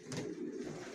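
Soft, low cooing from young Johnson line racing pigeons in a loft, a brief murmuring coo heard faintly at a distance without any talking.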